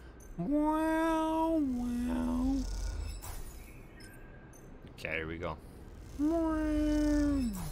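A house cat fed on biscuits gives two long, loud, close meows several seconds apart, with a faint purr under them and a short burst of a person talking in between.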